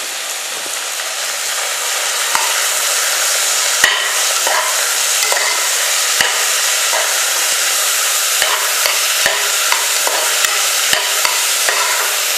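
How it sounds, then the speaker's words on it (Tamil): Vegetables, tomato and coriander sautéing in a pan for wheat rava vegetable pongal, a loud steady sizzle with frequent small clicks and scrapes from stirring, close and continuous throughout. "இது ஒரு 2 நிமிஷம் வதங்கினா போதும்."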